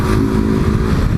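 A Honda XRE 190 motorcycle fitted with a BMW 310 exhaust revs hard on a neighborhood street, its deep, throaty engine roar held loud and close with a steady low rumble throughout.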